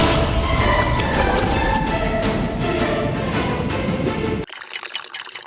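Water pours steadily over a Lego build to flood it, a loud continuous splashing rush that cuts off abruptly near the end, leaving a few faint drips and trickles.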